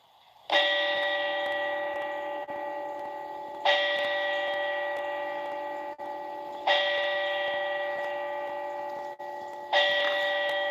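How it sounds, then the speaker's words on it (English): A deep church bell tolls four times at slow, even intervals, each strike ringing out and fading into the next. "Listen to the 4 bells."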